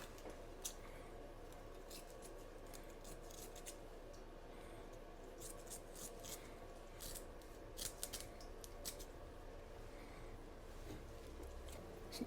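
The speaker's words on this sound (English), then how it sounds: "That one's still bad. I'm just gonna cut that section out." Scissors cutting a bad section out of a dried loofah sponge, a series of sharp close snips in irregular clusters over a quiet background hiss, no talk.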